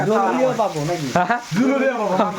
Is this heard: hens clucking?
no